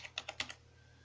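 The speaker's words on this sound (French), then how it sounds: "Et là, on va taper le mot de passe" Five quick keystrokes on a computer keyboard while a password is entered, faint and close in a quiet room over a low steady hum, then silence.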